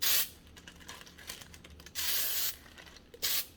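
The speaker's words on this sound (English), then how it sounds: "I'm going to spray the inside of this baggie with a nonstick baking spray." Bursts of nonstick baking spray hiss in short blasts into a plastic bag, with rustling and crinkling of the bag between them.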